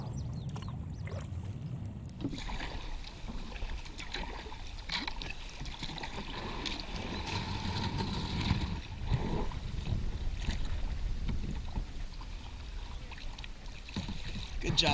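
A kayak glides on water at a state park, with soft paddle splashes and trickling drips over a steady low rumble of water and wind; a voice speaks briefly.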